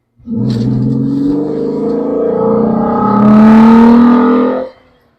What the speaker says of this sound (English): Second gear always sounds awesome.